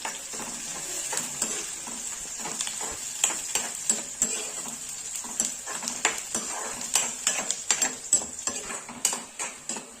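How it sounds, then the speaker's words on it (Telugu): Onions and curry leaves sizzle steadily in a hot pan while a utensil stirs and scrapes, producing irregular clicks and taps over the constant frying hiss. "ఇదిగోండి ఆనియన్స్ వేగుతున్నాయి కదా"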